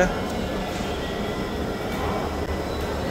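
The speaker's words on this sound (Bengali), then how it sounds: "এই যে রাশেদ যাচ্ছি মেট্রোতে।" A metro train runs in Dhaka with a steady, close rolling rumble and hum throughout, filling the whole stretch without breaks.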